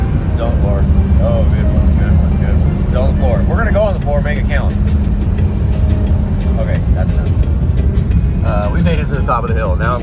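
A Ford 6.0 Powerstroke diesel truck pulls uphill at full throttle after a downshift, its loud, steady engine drone and road rumble filling the cab while someone talks over it.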